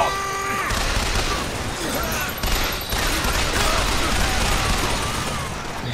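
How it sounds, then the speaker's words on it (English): Sustained machine gun fire in BioShock Infinite, a dense, loud, continuous rattle with bursts and crashes of combat running the whole stretch, with voices mixed in. "Machine gun."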